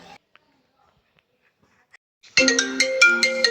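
A mobile phone ringtone starts suddenly after near silence, an incoming call chiming loudly in a repeating melodic pattern.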